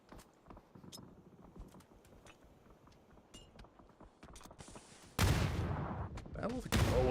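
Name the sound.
grenade and gunfire in PUBG video game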